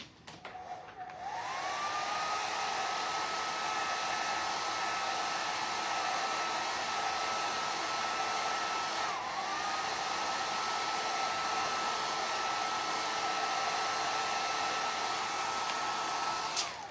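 A hair dryer drying paint on a craft transfer roars steadily up close, with a brief dip and restart partway through before it switches off at the end.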